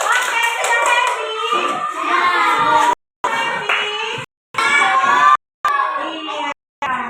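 Children clap their hands together during a classroom clapping game, rhythmic claps mixed with loud sung chanting voices and brief pauses between rounds.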